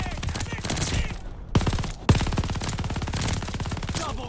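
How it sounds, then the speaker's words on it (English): Rapid, sustained bursts of LMG fire in Call of Duty Vanguard's chaotic Blitz mode, loud and close, with two sharper cracks standing out as the continuous rattle carries on. "Yo, this LMG is gonna be a problem, dude."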